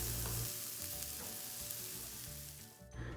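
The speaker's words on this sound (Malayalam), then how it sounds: "ചെറിയുള്ളി നന്നായിട്ടൊന്ന് ഫ്രൈ ആക്കി എടുക്കണം." Chopped shallots fry in coconut oil for Kerala-style moringa leaf thoran, a steady, close, soft sizzle with light stirring clatter, ending in a short louder burst of spatter; no voices.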